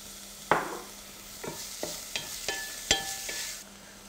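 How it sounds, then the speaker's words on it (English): Chopped onion sautéing in a pan after garlic, a steady soft sizzle carrying a few sharp stirring clicks and scrapes close by, with no talking. "Saute the whole thing for like just couple of minutes"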